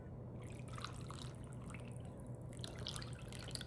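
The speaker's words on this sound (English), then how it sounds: "We're gonna pour half in there." Wet batter mixture poured into a well of dry ingredients in a mixing bowl for coconut pound cake, a faint steady trickling and dripping of liquid with no talking.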